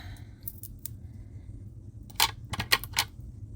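Scissors cutting a paper craft piece for a handmade card, a few sparse snips followed by a quick cluster of crisp close cuts over a low background hum.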